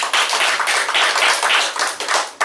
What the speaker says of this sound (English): Round of applause for Rishi.